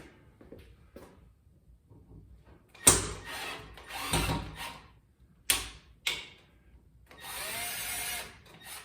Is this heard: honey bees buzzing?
no